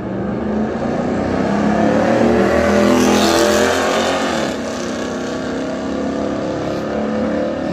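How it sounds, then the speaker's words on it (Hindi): A loud Ford Mustang roars past close by, its engine note swelling to a peak and then fading as it moves away. "मस्टैंग थी भाई भाई, मतलब बहुत तगड़ी साउंड भाई क्या था उसका"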